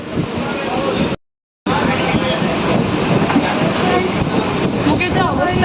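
Loud, continuous rumble and rattle of a moving, crowded train, heard from close by with a brief cut, voices faintly mixed in.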